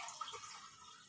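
Cold water is poured over strained vermicelli into a pot set beneath it, a faint, steady hiss of running, splashing water that continues throughout.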